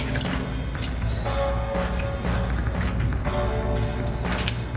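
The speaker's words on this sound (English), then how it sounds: "Rinse it. One by one, guys. So you make sure you get all the dirt off." Tap water runs and drips steadily while vegetables are rinsed one by one in a kitchen sink, a continuous splashing wash with small clatters of handling throughout.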